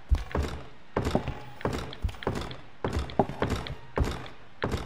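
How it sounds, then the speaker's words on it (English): Repeated heavy thuds of banging against a door in the horror game P.T., about a dozen dull wooden knocks arriving in irregular pairs and clusters, close and fairly loud, with no speech. "Can I just bang my head on this until it fucking opens?"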